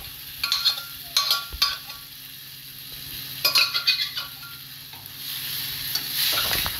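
Boiled tarka dal is tipped into a hot pan and stirred, with the mixture sizzling under several bursts of utensil scraping and clinks against the pan, then a louder steady frying hiss near the end.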